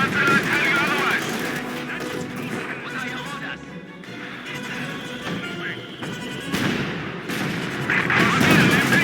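Gunfire and artillery crash and boom through a Company of Heroes 2 battle, dense bursts and impacts under radio-style unit voices calling out orders, loud throughout.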